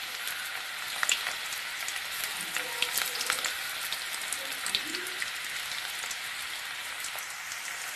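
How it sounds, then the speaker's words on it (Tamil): Ragi onion pakoda fries in hot oil, a dense, rain-like crackling sizzle with scattered pops, steady and close throughout. "நல்லா காஞ்சிடுச்சு, பக்கோடா போட ஆரம்பிச்சிடலாம்."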